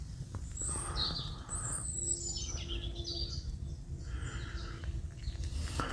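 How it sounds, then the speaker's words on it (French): Several birds chirp and warble in overlapping songs over a low rumbling background, with no voices. "Vous entendez tous ces oiseaux qui chantent?"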